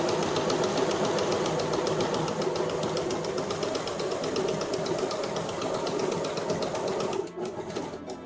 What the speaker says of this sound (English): If you sew exactly on that stitching line, you're going to have a very precise half square triangle.